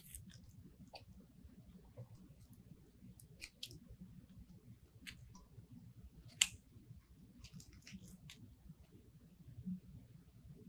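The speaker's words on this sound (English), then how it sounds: "Let's trim our ribbon tails." Scissors trim ribbon tails on a dog-themed wreath, giving a handful of faint, sparse snips and crisp clicks spread over a quiet background.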